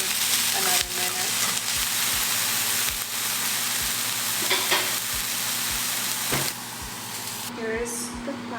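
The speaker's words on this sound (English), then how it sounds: "I transfer it to the same pan with vegetables and noodles, and just mix everything for another minute." Chicken, vegetables and noodles tossed together in a hot pan, with steady close frying sizzle and repeated scraping stirs throughout.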